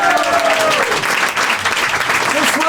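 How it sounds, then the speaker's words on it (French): A theatre audience at an improv show gives sustained, loud applause for the improviser running lights and music from the booth, a steady wash of clapping filling the whole moment. "Un tonnerre d'applaudissements pour l'improvisateur qui n'est pas sur scène avec nous"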